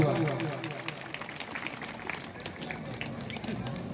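A seated audience at a kirtan gathering gives a hearty round of applause in welcome, a continuous rattle of many hands heard from a distance, moderately faint and even, with some voices underneath.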